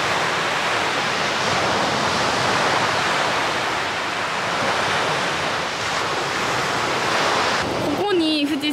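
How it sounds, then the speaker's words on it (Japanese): Ocean waves roll in at the shore in Numazu, Shizuoka, a steady roaring surf wash with some wind buffeting the microphone. A brief voice-like tone appears near the end. "それでは波の音をお聞きください。"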